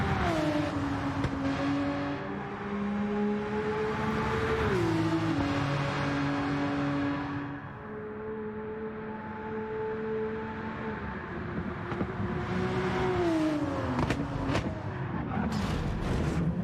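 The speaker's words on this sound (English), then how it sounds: "for those that like to listen to that Porsche whine" A Porsche flat-six races in the Circuit video game, its engine whining loudly and climbing through the gears with repeated drops at each shift and lift-off, heard close and alone with no talk.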